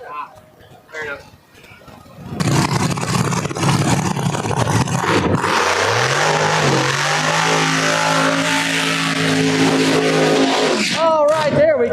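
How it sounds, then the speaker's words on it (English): Lizzy Musi's no-prep drag race car does a burnout at Empire Dragway: after a quieter stretch, a loud engine roar erupts and climbs in revs, with tire squeal and a commentator talking over it. "Lizzy Musi with the burnout"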